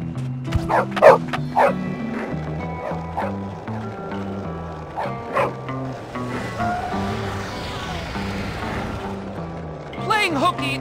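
A dog barks in the Bully video game, with several sharp woofs and yips rising over a steady musical soundtrack. Character voices talk alongside the barking.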